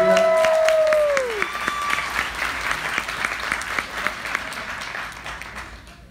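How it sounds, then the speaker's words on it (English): An audience at a 2019 Nike North America gathering in San Diego breaks into loud, sustained applause that tapers off toward the end, with a short descending tone at the start. "Please, a big applause for them, for you."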